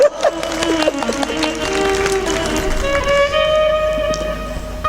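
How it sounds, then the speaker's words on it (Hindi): An audience at a Hindi religious discourse about cows claps loudly and continuously, a thick wash of applause over sustained harmonium-like tones and background chatter. "बजाओ तालियां जोरदार"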